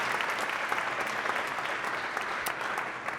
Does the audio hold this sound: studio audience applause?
yes